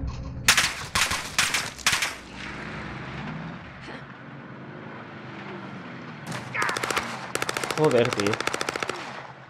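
Automatic gunfire in the video game Warzone, rapid bursts loud in the mix at the start and again in a dense rattling stretch near the end, with voices talking over the action.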